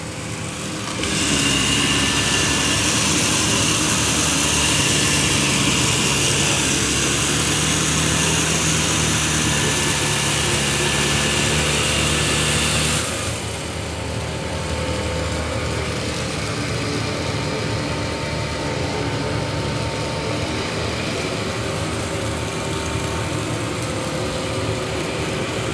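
A Dyson 360 Vis Nav robot vacuum sucks up spilled kitty litter with a loud, steady high-pitched whir. Partway through, the motor drops to a slightly quieter, lower drone and keeps running without pause, and no one speaks.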